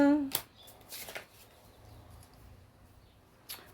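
Tarot cards shuffled and drawn by hand, a few quick papery riffles and slides, close and soft, with a brief voice near the start.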